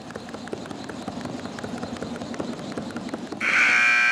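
Rhythmic light thumps of a jump rope slapping the floor during a jump rope contest, then a loud, steady electronic buzzer sounds abruptly at the end.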